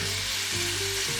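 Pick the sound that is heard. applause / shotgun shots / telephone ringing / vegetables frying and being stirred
vegetables frying and being stirred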